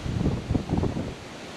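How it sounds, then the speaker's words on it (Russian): Strong gusting wind at a lakeside fishing platform in October storm weather buffets the microphone in heavy, irregular low rumbles for a brief moment, with no voices. "Вот такой вот, смотрите, ветруган. Смотрите, что творит."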